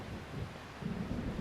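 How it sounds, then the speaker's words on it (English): Low, rolling thunder from a storm scene in the video game Xenosaga Episode I, a steady rumble with a swell near the end, heard alone with no voices. "I just really hate thunder."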